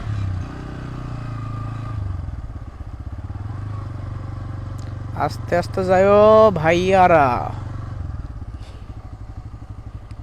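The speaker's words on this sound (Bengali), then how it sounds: "নদীর পাড়ে মোটরসাইকেল চালাইতে ভালোই লাগে" Motorcycle riding along a river bank, its engine a steady close putter throughout, with a voice speaking over it partway through.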